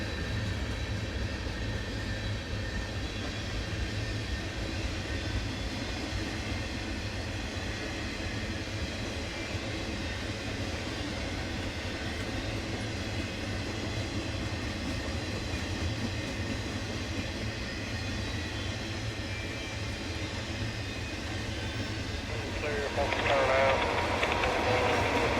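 A freight train rolls steadily past on the S line near Wildwood and Baldwin Yard, a continuous low rumble with wheel clatter that grows louder toward the end.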